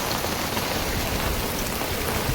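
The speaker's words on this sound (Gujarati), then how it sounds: "આવી રીતે કાંક વરસાદ વરે ભાઈ." Heavy rain pours down in a dense, steady roar that holds at an even, loud level throughout, with no voices and no breaks.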